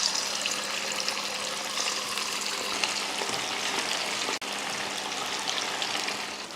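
Chilies fry in hot oil for a lunch dish, a steady dense sizzle and crackle running close and continuous, with one brief dip in the middle and no talking.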